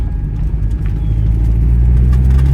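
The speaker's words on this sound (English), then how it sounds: "you hear the slicks are picking up all kinds of rocks. That's that noise that you hear." A small car on slick tyres drives over a rocky surface, its low exhaust and engine rumble loud and steady up close, with faint gritty ticks of stones flung up by the tyres.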